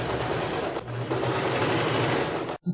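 A sewing machine runs continuously, stitching bias binding around the collar of a Japanese-sleeve blouse, a steady close mechanical whir with one brief hitch partway through before it stops abruptly.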